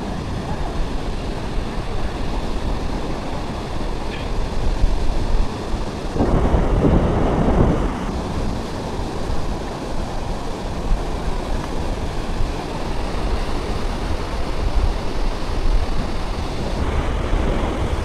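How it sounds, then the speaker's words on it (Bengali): Afternoon sea surf at Cox's Bazar beach, a steady broad wash of waves with wind buffeting the microphone and a louder surge midway, with a voice faintly present. "এখন হচ্ছে বিকেলের সমুদ্র বা শেষ দুপুরের সমুদ্র।"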